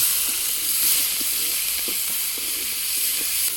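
Onion, garlic and ginger sizzle in hot oil as a steady, close frying hiss with faint crackles, continuous and alone without talk.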